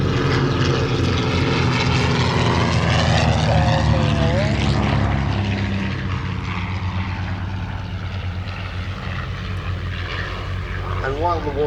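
Propeller engines of a Spitfire 5, Sea Hurricane and Avro 19 Anson drone loudly at an air show, a sustained roar shifting in pitch as the aircraft pass, with a voice talking over it.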